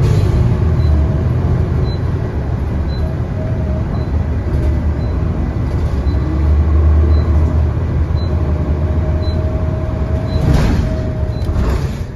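A CTA 223 bus drives around the north side of O'Hare airport, its engine a steady loud rumble from inside the cabin, with faint intermittent beeps and rattles and no talking.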